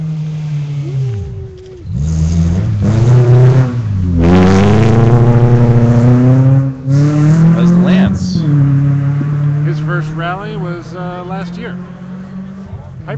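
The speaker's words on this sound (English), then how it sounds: "It's another Subaru." A Subaru rally car on the Sandblast Sand Trap stage rises in engine pitch, sweeps past close and loud, then fades away, with people talking over it throughout.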